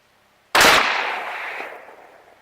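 A single sharp crack of a .223 rifle firing 55 grain FMJ rounds at a car hood 300 yards away outdoors, loud and close, with a long rolling echo fading afterward.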